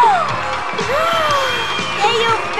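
A crowd cheers and whoops, with excited high shouts and yells rising over a steady roar of voices, lively and close.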